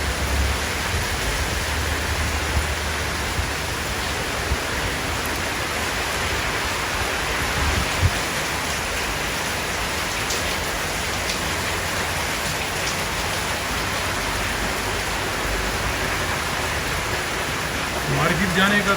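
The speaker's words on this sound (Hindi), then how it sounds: "भाई चारों तरफ बारिश ही बारिश है," Heavy rain pouring down in Thailand, a dense, loud and continuous hiss of drops on surfaces that fills the whole scene without a break.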